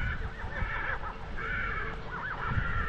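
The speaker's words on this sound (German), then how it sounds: "Hört ihr die Pferde?" Horses in mountain woods in Andorra whinny repeatedly at a moderate distance, their rising and falling calls carrying over a steady background rumble.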